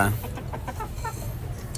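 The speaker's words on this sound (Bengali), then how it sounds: "এগুলা আমার সেই লাইজা মুরগিগুলা খাগড়াছড়ি থেকে আনিয়েছিলাম" Laiza hill chickens brought from Khagrachari give a run of soft, quick clucks at close range over a low background rumble.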